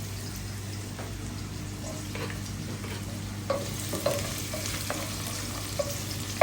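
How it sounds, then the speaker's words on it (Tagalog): Onions sauté in a pan in a kitchen in Kuwait, giving a continuous close sizzle with a low steady hum beneath and occasional clacks and scrapes of a utensil stirring, no talking. "Magluluto na yan, magigisa siya ng sibuyas."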